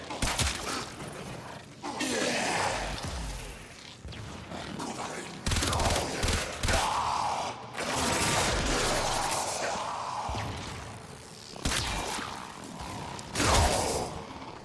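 Paracyst weapon in Warframe firing its alternate fire mode, repeated bursts of heavy, crashing electronic blasts separated by short gaps, loud and close, with game effects between them.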